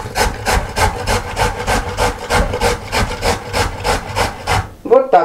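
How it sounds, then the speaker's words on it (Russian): Carrot grated on a coarse hand grater, a steady run of loud, rhythmic rasping strokes roughly twice a second, close up, ending with a brief clatter. "берем морковку и натираем на крупную терку."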